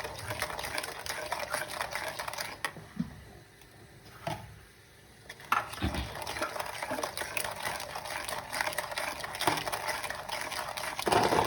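Mango pickle mixture with sugar and salt being stirred in a pan, a dense, continuous scraping and bubbling texture that briefly quiets before resuming, with a few spoon knocks.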